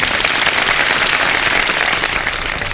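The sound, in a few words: studio audience applause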